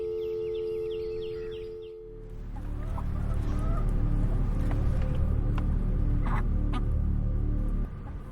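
A rooster, now turned into a hen, clucks and squawks in repeated bursts against a loud, rumbling background after a short tonal passage, fairly close and with no speech.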